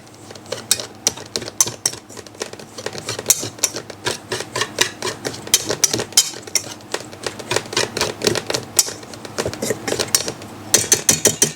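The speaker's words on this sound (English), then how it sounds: "I'm just going to take my whisk and just kind of break it up a little bit." A whisk scrapes and clicks rapidly against a bowl, breaking up lumps in dry flour for gluten-free chocolate chip muffins, with quick irregular rhythmic taps, close and fairly loud.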